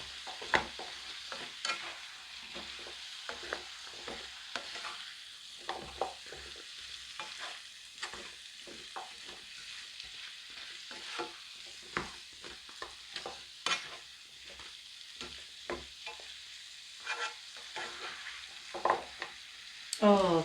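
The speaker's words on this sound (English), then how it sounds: "So just give that a good stir around so that all the seasoning coats your potatoes." Sweet potatoes tossed with seasoning in a pan for a vegetable curry, with a spoon stirring in repeated scrapes and taps over a quiet sizzle, close and steady for about twenty seconds, without speech.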